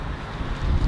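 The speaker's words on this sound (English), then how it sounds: "because it's windy" Wind buffets a microphone outdoors on a gusty day, a low rumbling roar that swells toward the end of a brief, close burst with no voices.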